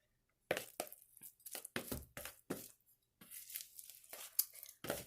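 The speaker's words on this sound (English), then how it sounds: "So I'm just going to keep stirring and stirring." A spoon stirs and mashes a thick vegan meatless loaf mixture in a bowl, giving a series of close, wet scraping and squishing strokes separated by short pauses.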